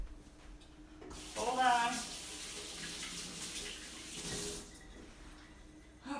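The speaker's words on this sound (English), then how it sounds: "I'm gonna wash my hands quick" Running tap water splashes over hands at a kitchen sink, a steady broadband rush lasting a few seconds before cutting off, with brief speech in the room.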